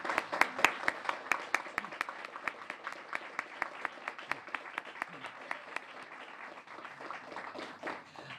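A round of applause for committee members at a press conference for a volunteer guardianship program, a small crowd's moderate, steady clapping with distinct sharp claps in front, thinning out toward the end.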